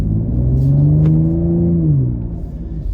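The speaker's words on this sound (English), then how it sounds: "The exhaust is the first thing that you hear, and this is how you know that you're not in a stock Explorer ST" A Ford Explorer ST fitted with a Thermal R&D exhaust pulls away, its engine note climbing steadily through a smooth, loud rise and then easing off as the throttle lifts.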